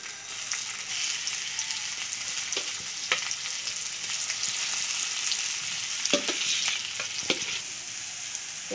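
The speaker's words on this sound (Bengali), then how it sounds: "এবার দিয়ে দেবো মটরশুঁটি" Green peas sizzle and fry in mustard oil with whole cumin, a steady close hiss broken by several sharp spatters and stirring knocks from the pan, with no talking.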